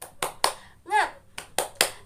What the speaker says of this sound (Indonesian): kita tepuk semangat terlebih dahulu yuk